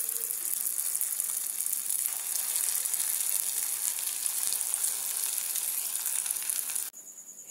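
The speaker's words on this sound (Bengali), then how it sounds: "তেলটার মধ্যে আমি এবার এগুলোকে দিয়ে দেবো।" Snake gourd kofta balls frying in hot oil give a loud, steady, dense sizzle that holds evenly, then drops sharply to a quieter hiss just before the end.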